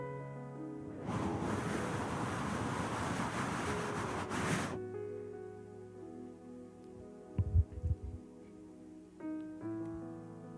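A breathy, whooshing rush like a gentle breeze, imitated by a preacher's voice, sounds for about four seconds and then cuts off, leaving quiet organ-like tones with a few soft thumps.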